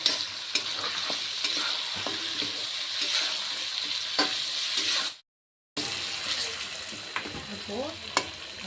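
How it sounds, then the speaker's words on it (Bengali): Chicken leg pieces sizzle as they fry in a pan, with repeated scraping stirs clicking over the steady crackle and a brief dropout midway. "ভালো করে ভেজে নিতে লাগবো।"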